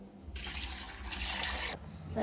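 Water splashes and streams into a cooking pot in two pours, a steady rushing fill followed by a brief clatter at the end.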